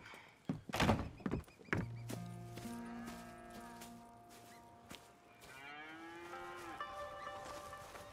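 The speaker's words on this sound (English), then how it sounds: "I was going to milk the cows." Cattle in the Red Dead Redemption 2 video game give several long, low moos, one after another, following a couple of loud wooden thunks, with farm ambience behind them.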